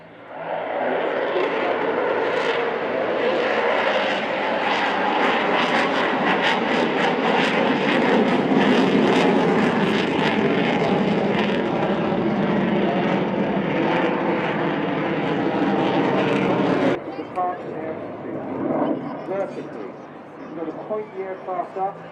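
Typhoon fighter jet at the Blackpool Airshow roaring overhead, loud broadband jet thunder swelling and holding before abruptly dropping away to a fainter rumble, with people talking.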